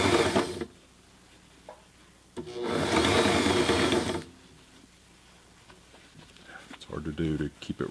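A Sailrite Ultrafeed LSZ1 sewing machine stitching fabric in two short loud rattling bursts, with a brief run at the start and a longer one mid-clip, while a person talks in the pauses between.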